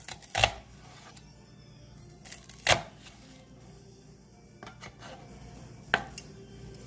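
A knife chopping vegetables on a cutting board for pico de gallo, a few distinct sharp knocks spaced seconds apart, close and fairly quiet against a soft background hum.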